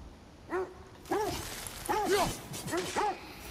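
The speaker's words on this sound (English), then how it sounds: "can y'all stop barking for like 2 seconds, man?" Several dogs bark in short, clipped bursts during God of War Ragnarök gameplay, with about four barking bouts spread across a few seconds over a low background hum.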